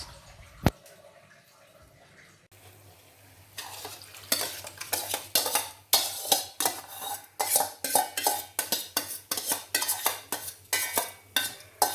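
A metal spoon stirs spices into masala in a pot, first quiet, then a fast, loud run of rhythmic scraping and clinking against the pot with a faint sizzle beneath, close up and without speech.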